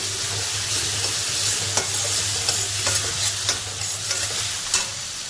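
Chopped onion, tomato and ginger-garlic paste fry in a pan for a spicy matki misal. A steady, close sizzle fills the whole stretch, broken by occasional spoon scrapes and stirring clicks.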